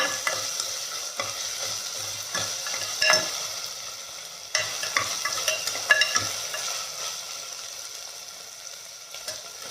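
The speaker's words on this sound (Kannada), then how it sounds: "ಇವಾಗ ಶುಂಠಿ ಬೆಳ್ಳುಳ್ಳಿ ಪೇಸ್ಟ್ ಹಾಕ್ತೀನಿ. ಅದು ಸ್ವಲ್ಪ ಫ್ರೈ ಮಾಡ್ತೀನಿ." Ginger garlic paste fries in a pan for a bachelor-style chicken biryani, a soft continuous sizzle broken by repeated scraping and stirring strokes of a spoon, with no talking.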